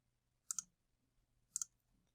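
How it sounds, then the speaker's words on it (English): Two crisp mouse clicks about a second apart, close and fairly faint, confirming an OK button in a spreadsheet program with only a quiet room hum behind them. "And then I can click OK."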